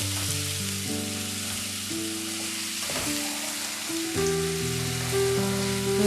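Masala frying in oil with a little water added, giving a continuous close sizzle and bubbling hiss that runs steadily throughout over a soft backing of sustained tonal music, with no voices.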